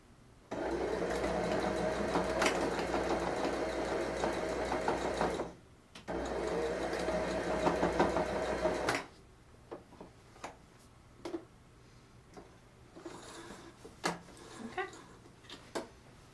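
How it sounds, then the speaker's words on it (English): A sewing machine stitches elastic onto pants in two steady, fast-ticking runs of about five and three seconds, broken by a short pause, then gives way to quieter handling clicks. "She'll do a back stitch in the beginning and a back stitch in the end."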